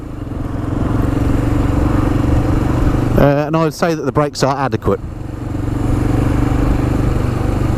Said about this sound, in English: it has got a nice thumping note to the pipe on here